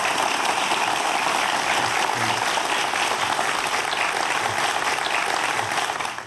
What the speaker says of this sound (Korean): 오늘 재밌는 강연 해주신 이종모 관장님 큰 박수 부탁드립니다.